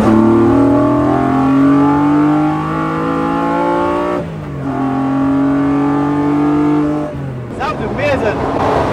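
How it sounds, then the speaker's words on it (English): Straight-six engine of a BMW 3.5 CSL revving hard in gears, loud rising harmonic wails that drop at two shifts around the middle and near the end, heard from inside the car over faint talk. "The engine makes all the music."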